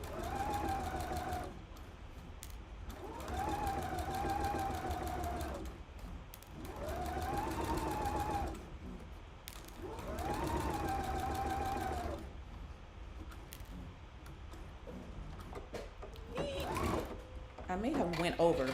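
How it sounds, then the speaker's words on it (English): A sewing machine stitches fabric while a welt is sewn, running in four or five steady buzzing bursts of a few seconds each with brief stops between. A person talks quietly near the end. "I'm gonna move that pin and start stitching"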